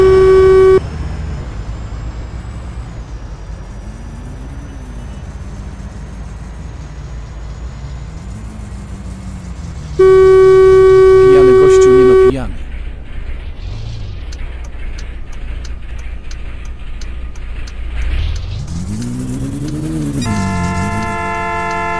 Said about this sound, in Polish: Co trąbisz?